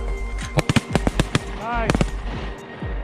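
Shotgun fire on a duck hunt, a rapid string of loud sharp blasts followed by a short pause and two more shots, with a bird call heard between the volleys.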